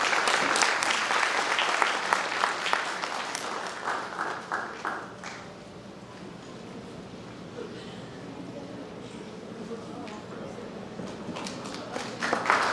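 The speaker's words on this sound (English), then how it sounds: "Can you please hear a very big round of applause for them, please?" An audience at a junior-section LKG annual school concert gives a big round of applause, loud at first and then thinning into scattered claps before a brief swell at the end, with faint talk in the background.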